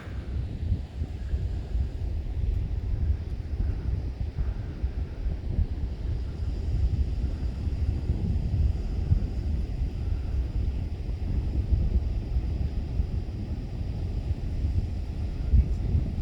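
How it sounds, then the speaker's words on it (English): Strong wind roars steadily across the microphone on the beach at Galveston, Texas, a dense, buffeting rush that never lets up, with faint surf and water noise beneath it and no talking. "He's backing into the wind now."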